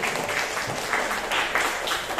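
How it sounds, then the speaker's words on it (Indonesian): An audience applauds a speaker at a school workshop session, a moderate, even roll of clapping from a roomful of people lasting a couple of seconds, with no talk over it. "Beri tepuk tangan kepada Pak Yud."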